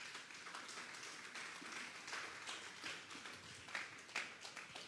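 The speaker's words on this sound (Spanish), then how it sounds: "Denle un fuerte aplauso pues al Señor." A church congregation at a Sunday service applauds, a steady wash of many hands clapping heard from a distance at moderate-low level, with no clear speech over it.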